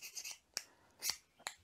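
A Helikon Tex Scout Mk2 ferro rod fire starter scraped with a striker, three or four short, sharp rasping strokes, close and fairly quiet.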